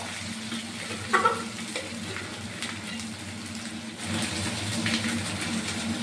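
Rice sizzles and fries in a pan that is starting to stick at the bottom, with a scraping stir and a brief clatter early on and a steady crackling sizzle that swells slightly toward the end.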